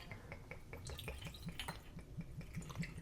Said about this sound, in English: I'm just filling up with vodka